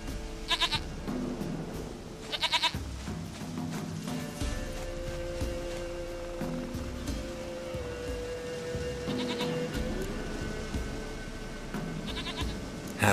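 In The Witcher 3, a goat lets out four brief bleats at spaced intervals, fairly close and clear, over a low, continuous bed of in-game ambience.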